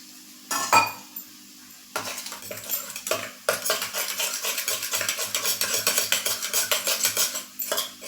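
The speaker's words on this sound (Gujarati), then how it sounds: "આપણે એક ચમચી પાણી લઈ અને મિક્સ કરી લેશું" A spoon stirs a paste of red chilli and a spoonful of water in a pot, giving repeated scraping and clinking strokes at close range with a steady, busy rhythm after a few sharp knocks.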